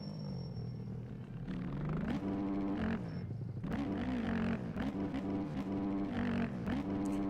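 A 450 dirt bike engine in the MX Bikes video game hums steadily with a low, buzzy drone, rising in pitch around two seconds in and holding a loud, wavering rev throughout.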